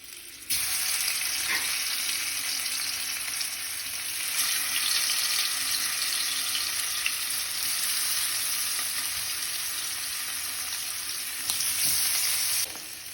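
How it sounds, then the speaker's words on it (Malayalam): Coconut oil sizzles and crackles steadily in a hot pan for frying fish, a loud continuous hiss that starts abruptly and carries on without voices. "സോ പാൻ ചൂടായിട്ടുണ്ട്. സോ കുറച്ച് വെളിച്ചെണ്ണ ഒഴിക്കുക."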